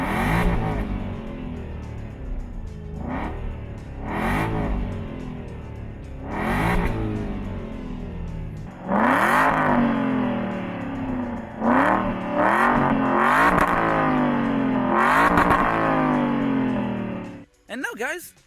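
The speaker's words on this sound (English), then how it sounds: "once you start up the engine," An Aston Martin V8 Vantage engine revs repeatedly, with rising and falling roars through several gear changes, loud and close inside or beside the car, ending abruptly.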